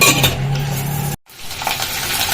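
Urad dal and chana dal sizzle in hot oil with a steady close crackle, briefly cut off by a short silence before the sizzling resumes.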